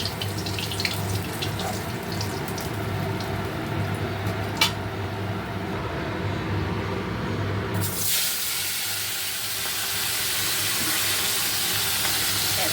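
Pabda fish frying in hot oil makes a steady, quiet sizzle over a low machine hum, turning into a louder, brighter hiss during the last few seconds.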